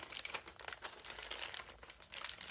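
Plastic crinkles close by in quick, irregular bursts as a swag bag for a Veto Pro Pac OT-LC Wiha Red Stripe Edition tool bag is unpacked. The sound is soft and continuous.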